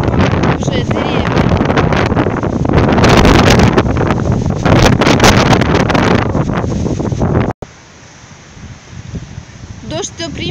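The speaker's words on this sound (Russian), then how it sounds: "ну а ветер не стихает" Strong hurricane-force wind gusting up to 25 m/s in Samara, roaring loudly and buffeting the microphone for about seven seconds before dropping abruptly to a quieter windy hiss.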